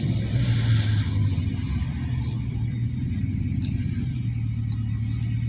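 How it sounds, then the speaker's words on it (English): A 2009 Chevrolet 2500HD with the 6.0 gas engine, towing about 4,500 to 5,000 pounds outside tow-haul mode, rumbles steadily while the gas pedal is lightly feathered, giving a loud, even low drone heard close up from the cab. "I'm literally feathering the gas pedal here"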